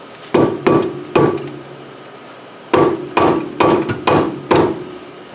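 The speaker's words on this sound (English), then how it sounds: "I probably ought to get me a hammer instead of a rubber mallet." Rubber mallet striking front brake parts on a 2007 Honda Accord: a double knock, a single blow, then four more, loud and close with short pauses.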